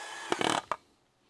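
Power drill briefly driving a self-tapping screw during a Charger crew cab restoration: two or three short whirring bursts close by, the longest about a quarter second, then quiet.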